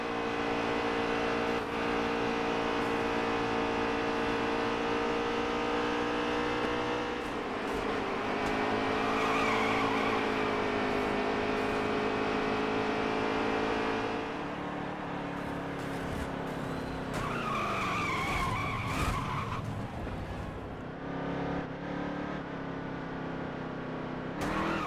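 Race cars in an IndyCar racing video game roar close and loud with revving engines and sustained tire skidding during a wreck, pitch dropping and sweeping mid-clip before engines pick up again.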